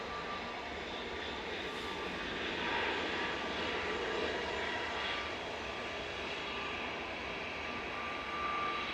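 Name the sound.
EasyJet jet airliner departing to Naples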